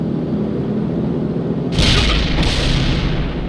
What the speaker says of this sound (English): I have dropped the bunker buster.